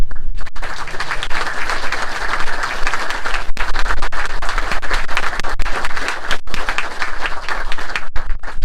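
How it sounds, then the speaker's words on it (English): Sustained audience applause at an outdoor groundbreaking ceremony for the Loudoun United FC soccer stadium in Leesburg, a dense, steady wash of many hands clapping, fairly loud and continuous throughout with no talk over it. "Let's pause to give a round of applause to all of those that have worked so hard to put this thing together and make this a reality"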